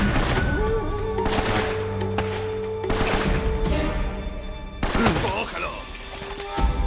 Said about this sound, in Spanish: Un disparo nada más, ¿eh?